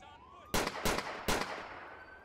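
Three sharp, loud gunshots from a handgun in the GTA IV police mod LCPDFR, fired in quick succession with a short gap before the third, each with a brief ringing tail and no talk over them.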